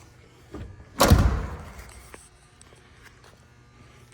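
A heavy door of a 1982 Oldsmobile Delta 88 Royale swings shut with a solid, deep thud, preceded by a lighter click, then a quiet room afterward.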